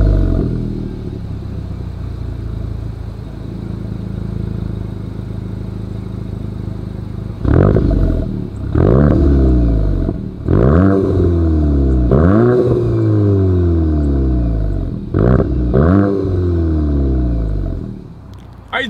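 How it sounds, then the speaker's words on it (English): A 2023 Volkswagen Golf GTI idles with a deep exhaust rumble, then revs sharply several times in a row, each rev rising and falling back, loud and close. "As always, here is that exhaust clip."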